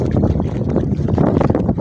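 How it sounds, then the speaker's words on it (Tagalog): Strong wind buffets the microphone on a beach in Bataraza, Palawan, in a loud, continuous low rumble with gusty fluctuations and no speech. "Sarap ng hangin, guys."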